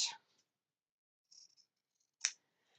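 Fabric being trimmed with scissors while making a mug rug, three brief crisp snips separated by silence, close and quiet.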